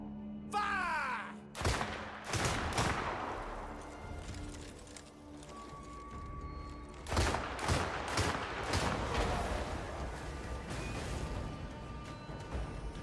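Musket volley fired by musketeers in the Crimson Desert video game, a burst of ragged overlapping gunshots followed by a second cracking fusillade, mid-distance among shouting and battle noise.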